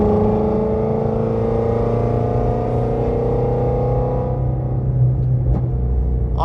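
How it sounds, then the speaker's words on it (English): A modified Shelby GT350R V8 with long tube headers and aftermarket exhaust rumbles steadily and loud, its deep drone holding throughout with a slight rise in pitch, no voices present. "that engine and that exhaust, you know, with the long tube headers and all the ARP stuff this guy's got in here, it just sounds amazing"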